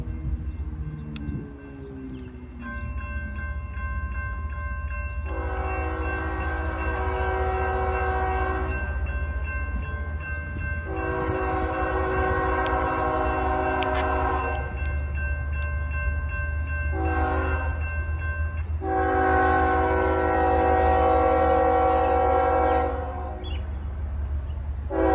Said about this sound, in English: we're about to get a train through here